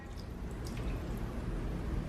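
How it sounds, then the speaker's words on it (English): Water poured into sauce in a cooking pan, a soft, continuous close trickle and splash lasting the whole moment, fairly quiet, with no talking. "Gonna add a little bit of water"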